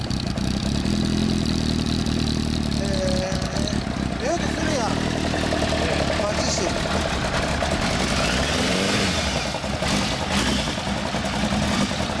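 Yamaha FZ750 motorcycle engine fitted with a Poison S1R exhaust, running steadily with a continuous mid-pitched idle and light revving throughout, heard close, with people talking over it.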